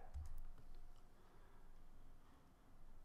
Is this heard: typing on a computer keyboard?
yes